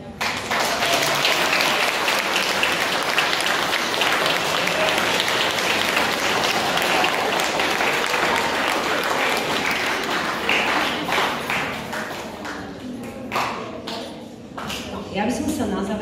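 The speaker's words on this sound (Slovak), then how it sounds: "ďakujeme veľmi pekne za krásny potlesk" Applause from the audience at a school St. Nicholas Christmas concert in Teplička nad Váhom, dense and sustained, thinning toward the end with a few scattered claps and a voice speaking over it.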